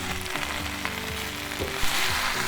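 Spinach sizzles and crackles in olive oil in a pan over high heat, a close, steady frying hiss with small pops and no voices.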